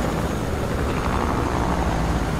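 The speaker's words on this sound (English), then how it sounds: "I'm gonna try and hit this guy with my chopper." Helicopter in Fortnite makes a loud, dense, steady rotor and engine roar that fills the whole clip without letup.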